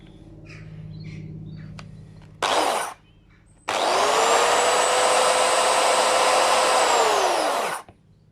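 Chainsaw run without its chain to check the oiler, a short burst of revving, a pause, then a steady loud high-pitched whine held for about four seconds before cutting off abruptly.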